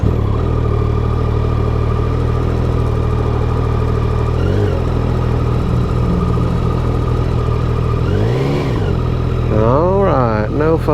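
A 2025 Yamaha Tenere motorcycle engine runs steadily at idle, close and loud, with a short rev partway through and rising, wavering pitch sweeps near the end, while someone talks over it.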